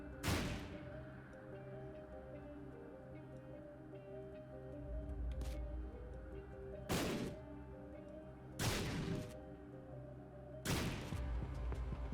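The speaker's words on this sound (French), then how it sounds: "Là, je casse tous les cailloux pour voir s'il y a une trappe invisible." Rocks being smashed in the video game The Binding of Isaac, heard as four or five sharp, loud crashing bursts spaced a couple of seconds apart over steady game music.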